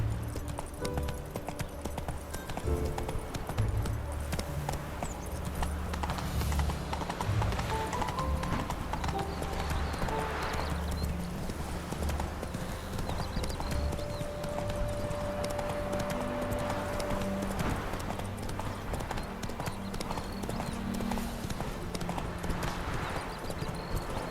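A horse's hooves clip-clop steadily at a walk in The Witcher 3 video game, close and continuous, with game music and ambient sound underneath.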